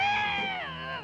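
A cartoon cat from The Smurfs lets out a single drawn-out, wavering howl, falling in pitch as it trails off, fairly close and alone.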